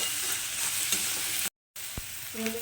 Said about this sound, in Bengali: এবার দিয়ে দিচ্ছি কিছুটা রসুন কুচি তো এগুলোকে আমি একটু এখন লাল লাল করে ভেজে নেব